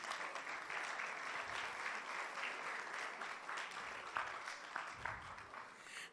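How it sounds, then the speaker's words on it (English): An indoor audience claps steadily through the whole stretch at a literacy challenge grand finale, a dense, even round of applause at moderate distance. "Let's give them a round of applause"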